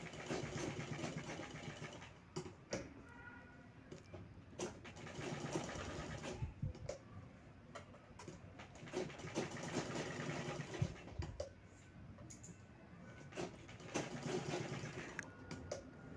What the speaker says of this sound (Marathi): तर आपल्याला या पीसवर अस्तर ठेवून आपल्याला तो चौकट आपल्याला शिवून घ्यायचा आहे